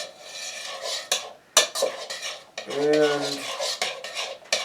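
Mango and black bean salsa stirred thoroughly in a bowl, a steady close scraping and clinking of a utensil against the dish with a few sharper knocks, heard alone with only a brief spoken word.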